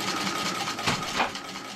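A Singer Model 15-91 sewing machine stitching through thick patchwork seams of a flat cap with a size 16 needle, a steady close whirring hum with a brief heavier thump as it crosses the bulk.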